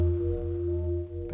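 A PWM Mantis hybrid synthesizer with reverb, a sustained bell-like tone with steady harmonics and a brief new attack near the end, heard alone.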